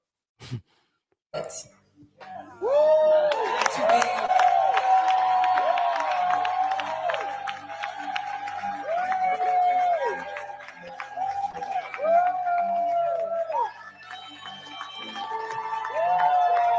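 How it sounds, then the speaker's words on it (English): A crowd at the Truth Awards show in Los Angeles cheers wildly, loud sustained roaring and whooping that swells after a brief quiet start and carries on for about fourteen seconds. "You see the crowd, how the crowd goes crazy over this?"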